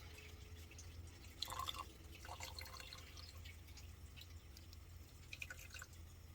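A quarter cup of water is poured into a pan of sugar for salted caramel, a faint, brief splash and trickle in the first couple of seconds, then a quiet kitchen background.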